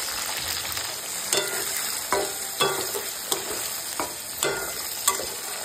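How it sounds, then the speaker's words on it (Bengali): Capsicum and onion fry in hot oil with a steady close sizzle, broken by several sharp scrape-and-stir clatters of a spatula against the pan. "ওই তেলের মধ্যে ক্যাপসিকাম আর পেঁয়াজগুলো হালকা করে ভেজে নেব।"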